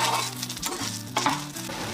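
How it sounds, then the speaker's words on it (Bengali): Coconut paste fries in hot oil, giving a steady close sizzle with soft stirring scrapes and no talking. "নারকলটাকে তেলের মধ্যে প্রথমে ফ্রাই করে নিই"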